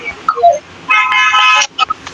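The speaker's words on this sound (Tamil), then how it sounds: "ஹார்ன் சவுண்ட்லாம் கேக்கு." A car horn honks in a steady sustained blast in the video game Free Fire, preceded by short electronic game tones, loud and close.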